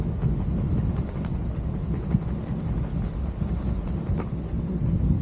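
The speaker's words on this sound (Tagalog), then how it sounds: "Lakas ng hangin." Steady, strong wind roars and buffets the microphone in a dense low rumble with no pauses, high in the air while parasailing over Boracay.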